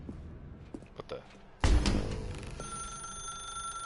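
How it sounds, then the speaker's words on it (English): Telephone ringing in The Stanley Parable, a sudden loud ring that cuts in partway through after quiet muffled sounds, then sustains as a steady electronic tone, with faint speech earlier. "Now pick up the phone."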